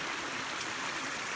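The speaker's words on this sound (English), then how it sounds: "This beautiful little creek" A small creek flows on a north-facing hillside along the Alabama Pinhoti Trail, giving a steady, close rushing and burbling wash of water with no talk over it.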